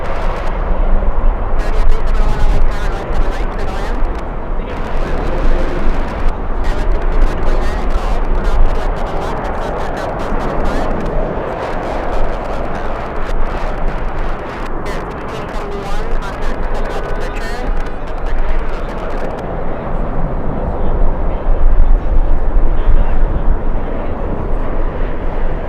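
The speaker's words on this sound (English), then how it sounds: "let's go for the United 737. Over the numbers, coming in" United Boeing 737 airliner coming in to land at LAX in strong winds, a steady loud jet roar with heavy wind buffeting throughout, continuous and close.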